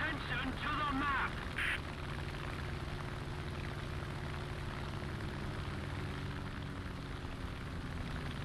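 A propeller aircraft drones past in the War Thunder air-combat game, a steady engine hum with a faint quacking effect, as voices talk over it early on.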